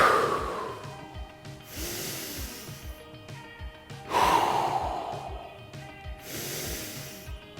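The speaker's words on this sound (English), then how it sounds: "3 deep breaths." Deep breaths drawn during an outdoor morning yoga session at an amphitheater: two or three long, loud inhale-and-exhale cycles, airy and close, with no talking over them.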